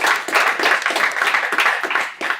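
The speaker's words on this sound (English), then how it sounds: "So a big round of applause" Applause for Ray White Corporate at a morning auction event at Hub Martin Place, a crowd clapping steadily and densely for a couple of seconds with no talk over it.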